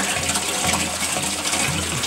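Fluid glugging as it is poured into a Jawa motorcycle, a close, steady gushing liquid sound lasting about two seconds with a faint rhythmic gurgle underneath.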